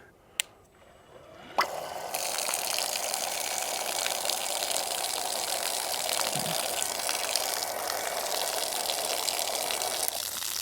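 Water gushes steadily out of a Milwaukee M18 stick pump drawing from a 2.5-gallon bucket, starting after a couple of sharp clicks and then rushing evenly at close range for several seconds.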